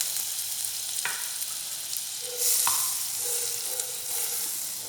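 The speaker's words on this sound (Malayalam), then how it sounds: "ഒരു നോൺ സ്റ്റിക്ക് പാത്രം അടുപ്പത്ത് വെച്ചിട്ടുണ്ട്. അതിലേക്ക് ഞാൻ വെണ്ണ ഇടുന്നുണ്ട്." Butter sizzles in a non-stick pan on the stove with a steady, close crackling hiss, broken by a few soft clicks of a spoon or spatula stirring.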